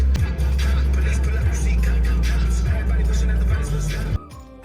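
A car on new Dunlop tires cruises along a highway with a loud, steady low road and engine rumble and tire hiss. It cuts off abruptly near the end, and voices are present.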